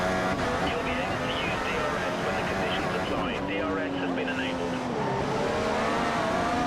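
Racing engine of a Formula 1 car in the F1 2015 video game at the Monaco street circuit, a loud continuous high-revving whine that shifts pitch through gear changes, with a commentator's voice talking over it throughout.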